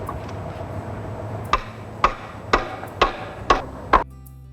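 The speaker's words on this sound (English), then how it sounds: "Each rung is seated into its predetermined position and hammered home with just the right amount of force." Six sharp wooden knocks from a hammer driving wooden rungs into a ladder rail, hand-built without nails, land about half a second apart, close and crisp, the last one cutting off into near silence.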